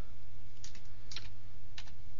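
Password being typed on a computer keyboard while setting up a user account: three short, close bursts of rapid keystrokes with pauses between, over a steady low hum, no talking.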